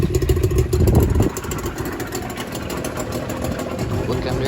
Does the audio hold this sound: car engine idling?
yes